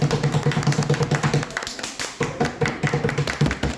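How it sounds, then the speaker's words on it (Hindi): Audience applause at a ceremony honouring a top-ranked UPPCS 2023 candidate, dense rapid clapping that dips briefly midway then resumes, steady and fairly close. "आप सभी लोग भी तालियां बजा सकते हैं"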